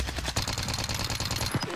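Sustained automatic gunfire in Call of Duty Warzone, a fast, even rattle of shots that runs loud and unbroken the whole time.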